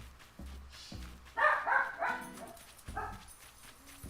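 Dogs wake and stir nearby: soft thumps and shuffling, a brief whining yip, and a few scattered movements, moderately quiet, with no talking.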